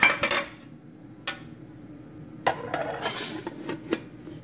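A cooking pot holding homemade pineapple yogurt gets its lid put on, with a few metallic clanks and clinks, close and moderately quiet, in a calm kitchen.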